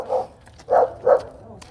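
A dog barks three times in a steady series, the barks fairly close and distinct against a quiet background.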